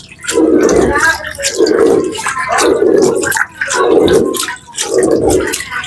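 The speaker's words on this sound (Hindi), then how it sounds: "फिर से इसमें पानी डालें" Water is poured over a screen printing stencil in five steady surges, each a loud, close gush with short gaps between.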